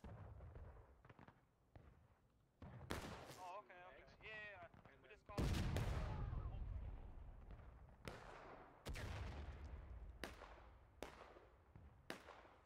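Musket volleys in the video game War of Rights, a series of loud, booming shots at irregular intervals, some close and echoing, with scattered distant cracks and voices talking between them.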